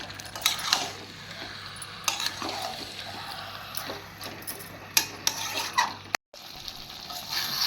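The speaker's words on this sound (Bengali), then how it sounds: "আমি চিকেনটা 10-15 মিনিটের মতন ভালোভাবে কষিয়ে নেব" Chicken being sautéed for chicken bhuna: a spoon scraping and stirring in a pan with irregular clinks and rubbing, over a soft sizzle, close up and without speech.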